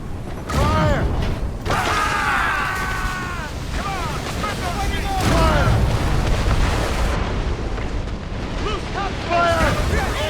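Cannon fire from a sailing warship in Assassin's Creed Rogue: repeated deep booms and rumbling blasts during a naval battle, with creaking timbers and shouted voices over the top.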